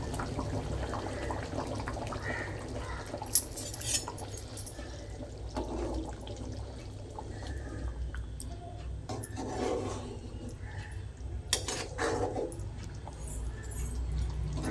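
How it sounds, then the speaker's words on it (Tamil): A pot of fish curry bubbling and simmering steadily, with a continuous wet churning noise and a few brief louder pops and clinks. "குழம்பு இப்போ நல்லா மல மல மலன்னு கொதிக்குது பாருங்கள்"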